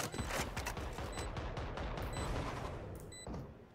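Gunfire in the tactical shooter Valorant, dense bursts of rapid shots layered over constant game noise and effects, loud and continuous throughout with no clear speech.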